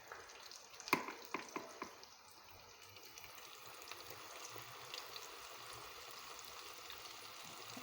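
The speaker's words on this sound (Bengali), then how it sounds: "এবার এভাবে সবগুলো ভেজে নেব।" Pakoras frying in oil, a faint steady sizzle with several sharp clinks and knocks early on, then a soft continuous bubbling hiss.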